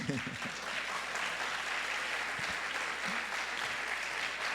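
A church congregation claps in a faint, distant, steady wash of applause that lasts the whole time. A few low voices murmur underneath early on.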